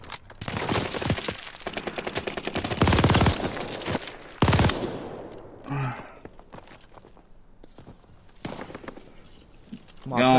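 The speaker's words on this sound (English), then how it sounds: "Where am I getting shot from?" Video game team deathmatch gunfire rattles in loud rapid bursts early on, then thins to scattered shots and movement sounds, with voices talking over the action.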